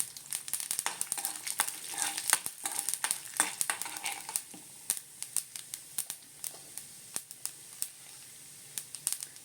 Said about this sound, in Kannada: 1 ಟೀ ಸ್ಪೂನಷ್ಟು ಕಡಲೆಬೇಳೆ, 1 ಟೀ ಸ್ಪೂನಷ್ಟು ಉದ್ದಿನಬೇಳೆ ಇಷ್ಟು ಫ್ರೈ ಮಾಡ್ಕೊಳ್ಳೋಣ